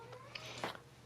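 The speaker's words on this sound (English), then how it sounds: "If you hear our cat meowing" A cat meowing faintly indoors, a short high-pitched call over a low steady hum.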